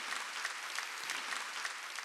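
A church congregation at a Wednesday worship service claps steadily in sustained, even applause that fills the room, with no speech audible over it.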